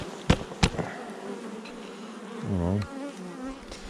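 Honeybees buzz steadily at a hive early in the season, a close, continuous insect drone with a few sharp knocks and brief handling noises, and a short spoken word near the start.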